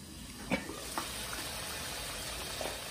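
Chicken karahi with tomatoes sizzling softly in a covered pan, a low steady fry with a few faint knocks.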